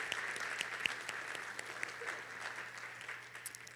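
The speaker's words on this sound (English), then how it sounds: "Let's give that video another round of applause." An audience applauds at a graduation ceremony, a steady wash of clapping heard from a distance with a low hum beneath it and scattered sharper claps.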